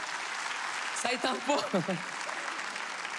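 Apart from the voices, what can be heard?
audience applauding at a comedy show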